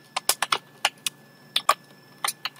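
Typing on a computer keyboard, with close, crisp key clicks in short irregular bursts separated by brief pauses, clear against a quiet background.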